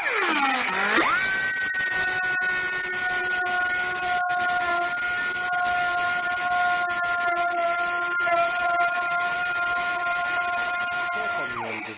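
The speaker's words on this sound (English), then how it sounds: "we're going to die grind off the top of that head" A die grinder cuts off the head of a countersunk screw while a Defender front door is being changed, a steady high-pitched whine holding for about ten seconds after a rising spin-up, then winding down at the end.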